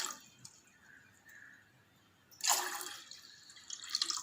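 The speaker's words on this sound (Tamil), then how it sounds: "அதனால் 2 டம்ளர் தண்ணி ஆட் பண்ணிக்கிறேன்." Water splashes and pours into a cooking pot in a short burst after quiet drips, close and fairly loud.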